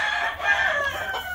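Stuart Yellow Leg Hatch gamecock rooster crowing, a single short, loud, strained call heard close and alone.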